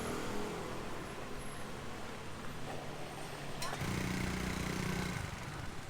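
Traffic on a busy Bangkok side street, cars and motorbikes passing and revving continuously close by, with someone talking over the engine noise.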